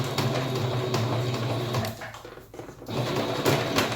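A sewing machine runs steadily and close by, stitching through a thick, pleated fabric face mask, with a steady whirring hum that dips briefly in the middle before resuming. No one speaks.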